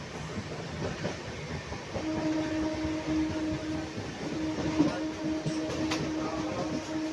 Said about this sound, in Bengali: চলো, আমাদের এই ট্রেনে যাত্রাপথে স্টেশন আসছে মোরগ্রাম